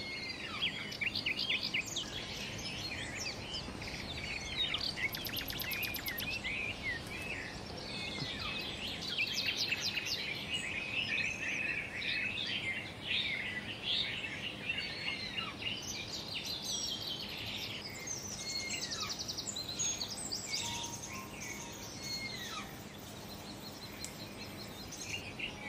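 Many birds sing and chirp together in a forest, with overlapping trills and whistles near and far over a faint insect hum, and no voices.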